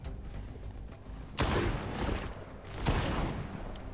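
Gunfire during a fight with a bloodsucker mutant in the video game Stalker 2: two loud, sharp shots about a second and a half apart, each followed by a decaying rumble over a noisy in-game background.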